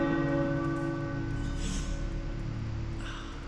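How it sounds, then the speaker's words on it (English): Tower bells ring in a video game, faint and reverberant, with sustained ringing tones fading slowly behind a low ambient hum. "The tower bells are ringing."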